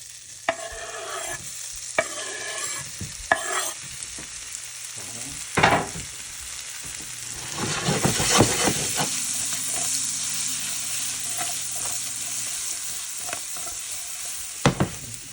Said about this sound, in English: Saute them in butter